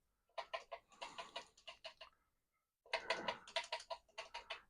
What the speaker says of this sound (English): just moving things around, hitting the delete key